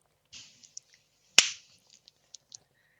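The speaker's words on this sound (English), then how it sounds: "Clap for me, Shan." A single sharp hand clap in a quiet room on a podcast recording, close and crisp, with a few faint small clicks and rustles around it.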